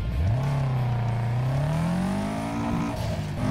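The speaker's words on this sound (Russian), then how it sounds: "Я хочу услышать этот звук мотора." Subaru Impreza WRX STi with a tuned boxer engine revving hard, its loud, close note climbing steadily in pitch and holding high without any talk.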